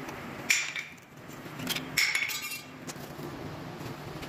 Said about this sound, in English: Remove brake pads.